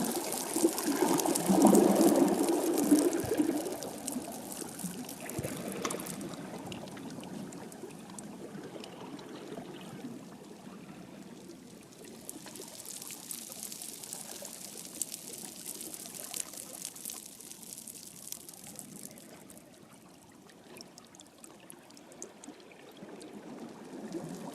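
Gentle seawater laps and trickles at the shore on a June evening, soft and fairly distant, with a slightly louder splashing burst early on before settling into a quiet, steady wash.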